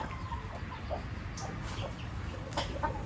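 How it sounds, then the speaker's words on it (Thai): Gamecocks cluck in a fruit orchard, a few short low clucks and calls scattered over quiet outdoor background noise, with no talking. "เลี้ยงไก่ตีในสวนผลไม้มากไม้"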